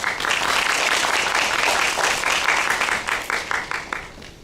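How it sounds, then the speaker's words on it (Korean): Loud, dense audience applause at a conference stage event, filling the room steadily before thinning into a few separate claps that fade out at the end. "박수 부탁드립니다."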